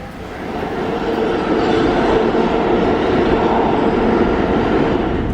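A New York City subway train rumbles and clatters steadily and loudly close by, its roar building slightly in the first second and then holding, with no voices.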